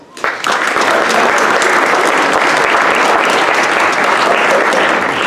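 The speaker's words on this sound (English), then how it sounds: "applause." An audience at a youth safety and violence prevention event bursts into loud, sustained applause for youth projects, close and continuous after a brief quiet start.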